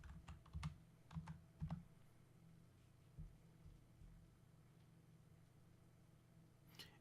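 Short bursts of keystrokes on a computer keyboard during AutoCAD setup, a few quick clustered clicks early on, then a long quiet stretch with faint room hum.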